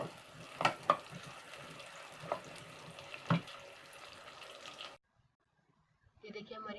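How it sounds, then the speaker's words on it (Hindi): Onions fry in about half a cup of oil in a cooking pot, a faint steady sizzle with a few louder clinks of stirring, then a brief silence before the sizzle returns. "अब इसमें हम प्याज ऐड करेंगे। हमने इसको ब्राउन करना है प्याज को।"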